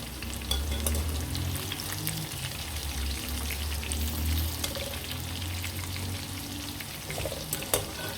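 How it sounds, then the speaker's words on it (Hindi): Okra fries lightly in a pan, giving a steady, close sizzle with soft crackles and occasional stirring scrapes throughout. "भिंडी को मैंने लाइट सा फ्राई कर लिया है, तो इसको मैं निकाल लूँगा।"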